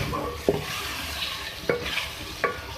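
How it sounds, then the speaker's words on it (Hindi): Marinated chicken being stirred in a pan for a Nawabi chicken dish, with three distinct scraping stir strokes spaced about a second apart over a steady sizzle close by. "मैरिनेट चिकन डालने के बाद आप इसको कुक कर लें। अच्छे से इसको मिक्स कर लें।"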